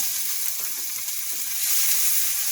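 Kung Pao chicken ingredients stir-fry in hot oil in a pan, giving a loud, continuous close sizzle with faint scraping of the stirring, and no voices.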